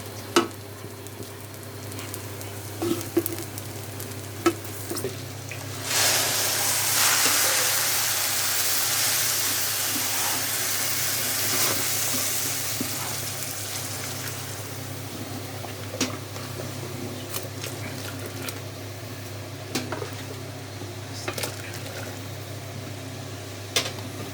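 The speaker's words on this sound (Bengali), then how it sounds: "এই যে আমার চালটা দেখেন কি সুন্দর ভাজা ভাজা হয়ে আসছে।" Rice sizzles and hisses as it fries in a pot for polao, the crackle swelling loud for several seconds, then easing back to a quieter simmer with occasional clinks.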